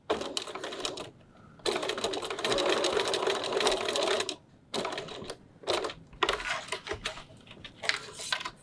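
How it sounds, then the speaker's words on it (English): Sewing machine stitching down the folded ends of a zipper tape on a triple-pocket pouch, running in several steady bursts of rapid mechanical chatter separated by short pauses, close and clear with no talk. "I'm just going to baste the ends of my zipper tape so that they stay bent."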